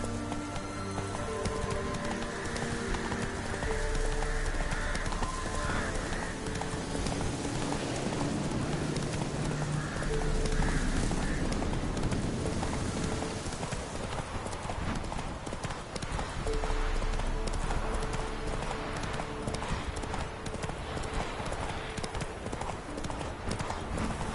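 Horse hooves galloping in a video game, a fast, continuous clip-clop with a faint snort, set against a steady music bed, with brief voices now and then.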